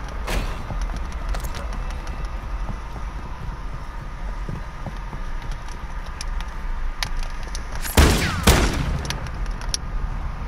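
Raal light machine gun fire in a video game, with scattered shots over ambient wind and a louder burst of heavy gunfire near the end.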